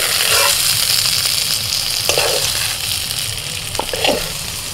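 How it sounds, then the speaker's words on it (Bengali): Pointed gourd pieces fry in hot mustard oil in a kadai, giving a steady, close sizzle with a few light stirring scrapes. "পটলটাও এইভাবে ভেজে নিয়েছি, এবার তুলে নিচ্ছি"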